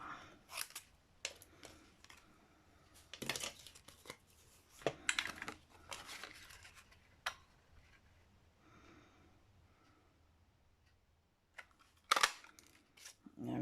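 Scissors cut through craft card in a series of close, crisp snips and rustles, with irregular clusters of sharp clicks, a quieter stretch in the middle and a few louder cuts near the end, with no speech.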